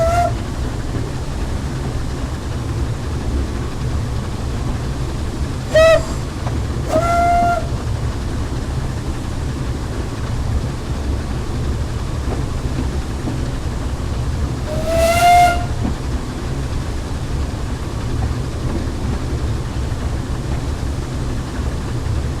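A steady steam hiss from the blower of a pannier tank steam locomotive on the Seabourne railway in Train Simulator 2017 runs throughout, broken by three short whistle blasts.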